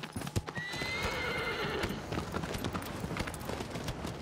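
A horse in the video game Shadow of the Colossus gives a whinnying neigh over a run of clip-clopping hooves, the hoofbeats steady and close throughout.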